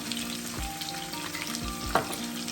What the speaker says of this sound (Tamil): ஒரு 2 நிமிஷம் இப்படி எடுத்தா வதங்க விடுவேன்